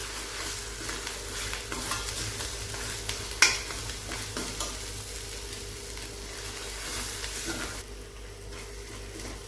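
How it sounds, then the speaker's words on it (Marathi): Misal masala of gravy, bedgi chilli powder and dry spices sizzles in a pan while a spoon stirs and scrapes it steadily, close and continuous, with one sharp clink of utensil against pan. "हा मसाला आता छान असा परतत आलेला आहे"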